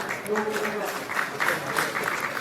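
Crowd applause at a political rally in Punjab, a steady roar of clapping that carries throughout, with voices mixed in.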